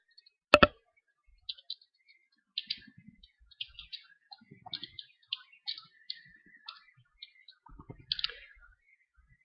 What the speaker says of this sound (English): So I'll go ahead and type in the same thing we did earlier.